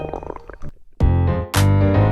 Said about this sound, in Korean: 꼬르륵 꼬르륵 꼬르륵 배고프니?